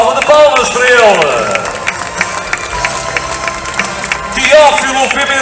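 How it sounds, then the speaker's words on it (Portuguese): Clapping and cheering from a crowd at an outdoor serenade concert during the Festas do Concelho in Arcos de Valdevez, sustained and fairly loud, with voices carrying over the applause. "Uma enorme salva de palmas para ele."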